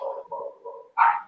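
A dog gives a quick run of three muffled barks followed by a sharper, louder one, all within a second or so, with no talk.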